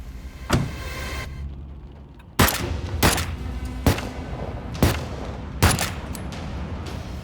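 Five loud gunshots in a dramatized killing inside a car, fired at irregular intervals of about a second, each sharp crack followed by a short decay over a low rumbling background.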